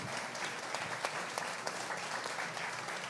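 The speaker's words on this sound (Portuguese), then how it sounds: "Senhoras e senhores, salva de palmas," Audience applause for Valéria and Denis at the close of a Concur Show stage talk, a dense, steady roar of many hands clapping together, continuous and fairly loud throughout.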